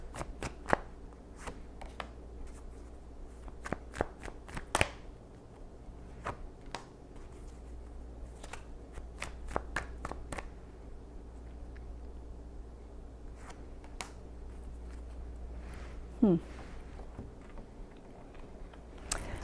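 Tarot cards being shuffled by hand in a quiet room, a series of soft, crisp riffling snaps and flicks arriving in scattered bursts over a low background hum.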